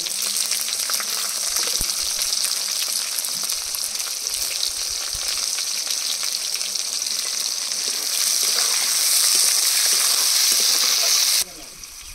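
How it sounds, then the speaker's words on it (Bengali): Chopped onions fry in hot oil with dried red chilli, whole cumin and whole garam masala, giving a steady, bright sizzle close up. It swells louder for a few seconds before cutting away, with light kitchen handling beneath. "পেঁয়াজগুলো ভাজা হচ্ছে"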